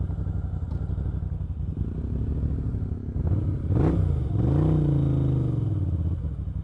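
A Moto Guzzi V7 II Sport motorcycle on the road gives a steady, close engine drone with wind noise, then the revs rise and fall as it accelerates, with no talking.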